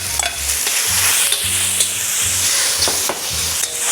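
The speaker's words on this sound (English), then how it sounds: "Quick stir fry like this." Garlic noodles stir-fried in a pan, with a steady loud sizzle and repeated scraping, tossing strokes at close range, no voices.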